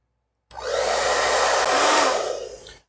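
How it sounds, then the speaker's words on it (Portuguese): A hair dryer, powered through an electrical extension cord, switches on after a moment of silence and runs with a loud, steady rushing whoosh of motor and airflow for about two seconds before cutting off. "vamos então acionar o secador"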